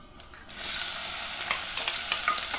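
Chopped onion dropped into a hot pan of oil for palak paneer, a bright crackling sizzle bursting in after a quiet half second and holding loud and close to the end.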